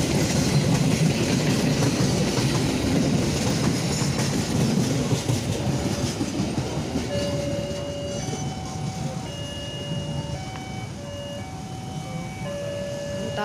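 A train hauled by a locomotive rumbles steadily past on the railway west of Semarang Poncol station, loud and close, with a run of clear tonal signal beeps rising over the rolling noise near the end.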